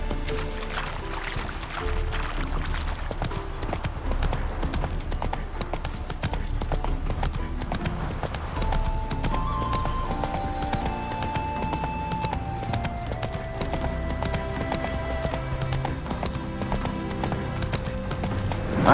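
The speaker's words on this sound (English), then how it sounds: "Spooking my horse." Horse hooves clip-clop steadily at a run in The Witcher 3, a continuous rhythmic clatter over a constant background with a faint tonal layer, no clear neigh standing out.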